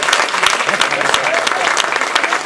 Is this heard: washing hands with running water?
no